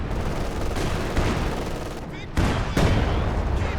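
Soviet ZiS field guns firing an artillery barrage in Company of Heroes 2, with heavy booming impacts and gunfire crackling throughout, two sharp loud blasts near the end, and voices mixed faintly underneath.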